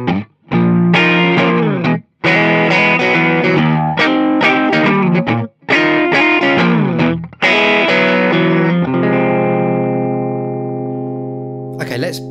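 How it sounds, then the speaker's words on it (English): Electric guitar through a Nora distortion pedal: a run of loud, heavily distorted chord hits with brief gaps, then a final chord left to ring and slowly fade, with no talking. "Right, let's turn on the Nora distortion."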